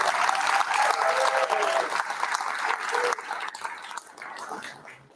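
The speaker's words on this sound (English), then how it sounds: "So a round of applause for them." Dense applause from an audience at an evening farewell gathering, loud at first and gradually thinning out and fading over several seconds.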